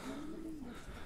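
A single pigeon gives a soft, brief coo outdoors at a loft during a racing-pigeon homing contest, faint and somewhat distant, with no voices.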